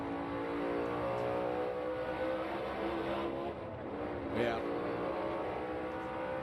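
Onboard view of a NASCAR Cup Series car racing at Phoenix, its engine droning steadily on throttle with a rising pitch, a brief voice heard over the continuous loud motor noise.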